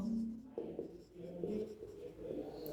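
Chalk or marker scratches across a board during a Class 10 polynomials maths lesson, in short strokes under a teacher's ongoing speech in a classroom.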